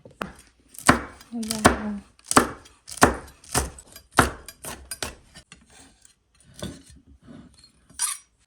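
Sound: knife chopping chili peppers

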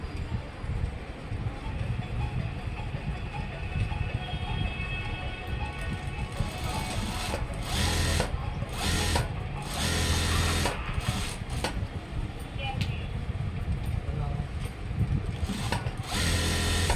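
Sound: sewing machine stitching a school uniform coat

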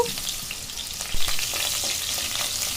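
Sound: onions frying in oil in a pan

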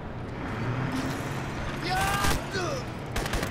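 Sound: minigun firing in Crysis video game

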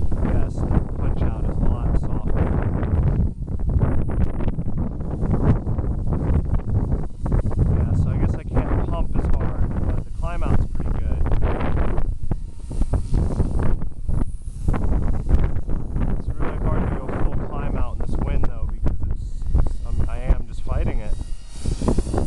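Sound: wind blowing during kite climb outs

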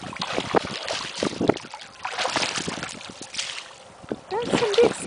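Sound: puppy splashing while swimming in a pool

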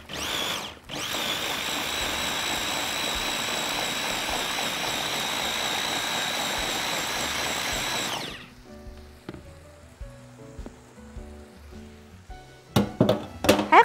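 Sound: food chopper or blender running

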